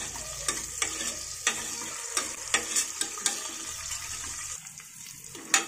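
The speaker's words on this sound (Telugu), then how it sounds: "ఈ ఆనియన్స్ ని బాగా ఫ్రై చేసుకోవాలి" Onions with curry leaves fry in a pan for a sprouts curry, a close sizzle broken by repeated sharp scrapes and knocks of the stirring spoon against the pan, ending in one louder clack.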